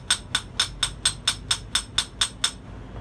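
A small long-nose peening hammer strikes small hot rivets on tongs, ringing out about ten evenly spaced, sharp metallic blows, close and clear with no talking.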